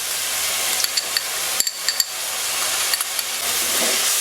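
Ginger garlic paste sizzling with onions in a hot pan for Thattukada-style chicken perattu, a steady frying hiss with a few light clicks of stirring, one brief dip in the middle, no talk.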